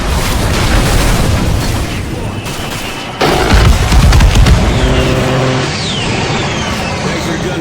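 Tanks blown apart by explosions in a Call of Duty Modern Warfare battle: loud rumbling blasts, one sharp heavy boom partway through, then debris and engine-like roaring fading into ongoing combat noise.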